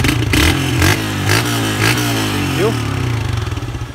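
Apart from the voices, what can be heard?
motorcycle engine starting and revving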